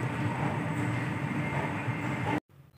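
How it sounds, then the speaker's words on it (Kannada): A train rolls past on the opposite track, heard from inside another train as a loud, steady low rumble and rattle that cuts off abruptly near the end. "ಆಪೋಸಿಟ್ ಟ್ರ್ಯಾಕಲ್ಲಿ ಬೆಂಗಳೂರು ಕಡೆ ಯಾವುದೋ ಟ್ರೈನ್ ಹೋಗ್ತಾ ಇತ್ತು"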